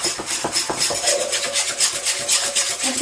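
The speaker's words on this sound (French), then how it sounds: "On mélange bien." Apple cake batter of sugar, oil and vanilla sugar being mixed by hand in a bowl, heard as close, continuous scraping and swishing strokes in a quick, uneven rhythm.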